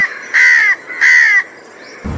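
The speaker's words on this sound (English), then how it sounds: "Crows give a cawing sound" A crow gives two loud, harsh caws about half a second apart, close by and clear, with no other sounds around them.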